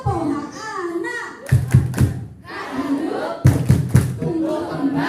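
A children's group claps and chants the tepuk hak anak routine in Indonesian. Two sharp clusters of clapping break through loud, close group chanting.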